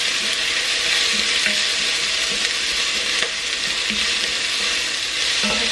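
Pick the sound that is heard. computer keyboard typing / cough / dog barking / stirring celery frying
stirring celery frying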